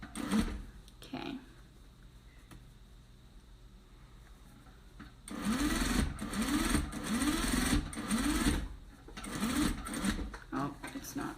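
A sewing machine runs a diamond point stitch on a DIY Father's Day gift, its rhythmic whirring coming in several close bursts of a second or two that pause and restart, with a person talking at times over the stitching.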